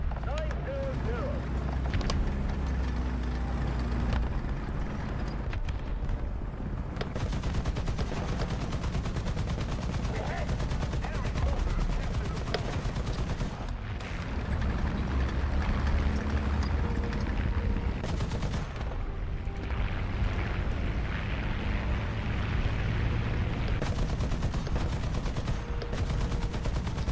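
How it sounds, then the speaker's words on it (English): Tank cannon fire in the War Thunder video game booms in loud, repeated blasts amid rolling battle noise and engine rumble, with a player's voice talking over the action. "I used my cannon hoping I was able to hit him"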